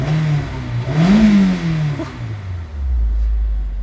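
A 2003 Honda S2000 with a 9,000 rpm redline revs loudly up close, its engine note climbing, easing back and falling to a low rumble, with no talk over it.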